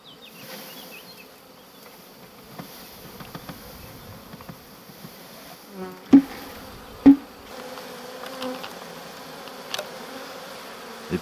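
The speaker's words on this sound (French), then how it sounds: "Ça c'est un seau de 10 litres, j'ai 5 litres d'abeilles à peu près." A swarm of honeybees, about five litres, poured from a ten-litre bucket into a small hive box: a steady, soft buzzing hum, with a few sharp knocks near the middle and lighter taps later.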